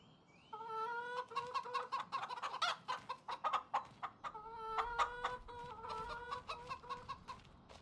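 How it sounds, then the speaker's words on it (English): Chickens in a farming video game clucking in quick repeated bursts with a few stretched crowing-like calls, clear and fairly close, with no talking over them. "Look, full grown chickens."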